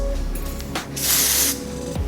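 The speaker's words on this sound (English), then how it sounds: "I take the hairspray, spray it on the hair" A single burst of hairspray hisses briefly onto hair, sitting over a faint steady hum in a quiet room.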